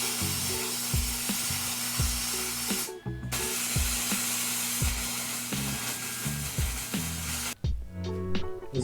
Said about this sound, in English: Just a couple tack welds.